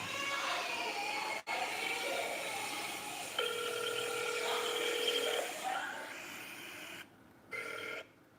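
A telephone call connects to voicemail, heard as hissy phone-line tones and a sustained beep-like tone, broken by short gaps and a final brief tone near the end.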